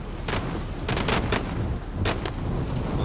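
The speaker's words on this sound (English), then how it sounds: "they're shooting each other" Gunfire in Call of Duty Modern Warfare, with scattered shots and short bursts over a steady, noisy battlefield background at moderate distance.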